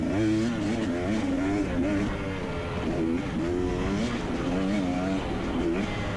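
A KTM 250xc two-stroke dirt bike laps a motocross practice track, its engine loud and close, rising and falling in repeated revving waves as the rider shifts through turns.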